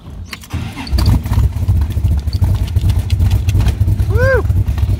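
A 1965 Chevrolet Corvette roadster with a 427 V8 cranks briefly, catches with a loud burst about a second in, then settles into a deep, lumpy idle rumble. A voice is heard over the engine.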